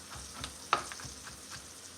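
Garlic and other ingredients for a beef tagine sautéing in a pan, a steady close sizzle with a few stirring knocks and one sharp clink of a utensil.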